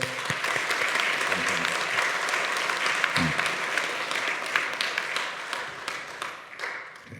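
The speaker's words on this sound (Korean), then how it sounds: "이 땅의 모든 어버이들과 우리 교회 어르신들에게 감사하다는 힘찬 박수를 함께 올리겠습니다" A church congregation at a Sunday service applauds parents and elders, a steady, moderately distant wash of clapping lasting throughout, with faint voices underneath, tapering slightly at the end.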